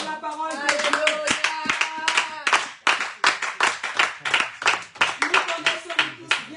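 A church congregation at a French and Portuguese preaching service claps together in acclaim, a close, rhythmic run of hand claps mixed with a voice speaking over them.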